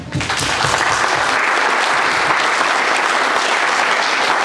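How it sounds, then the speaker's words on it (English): An audience loudly applauds the fire company at a firehouse housing ceremony, with dense, continuous clapping from a sizable crowd that holds steady throughout. "I want to give you a round of applause."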